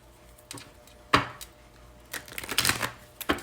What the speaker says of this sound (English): I'm going to shuffle these cards 5 times.